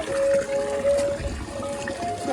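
Water runs from a drinking tap at a park in Dharan, a steady, fairly faint trickle and gush that continues throughout against outdoor background noise.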